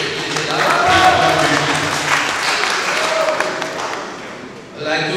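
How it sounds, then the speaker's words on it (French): An audience at a chieftaincy festival gathering in Bandjoun claps briefly, with an announcer's voice heard over the applause, which then trails off into a short pause before talking resumes. "On peut applaudir pour eux, peut-être qu'il est là."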